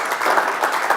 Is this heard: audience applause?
yes